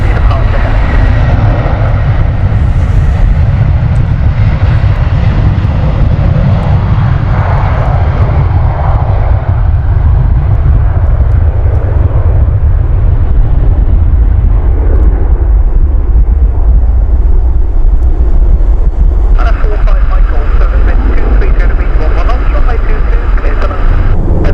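A Jet2 Boeing 737 airliner at Stansted Airport roars loudly and steadily for the whole stretch, its engines droning under gusty wind noise with no voices.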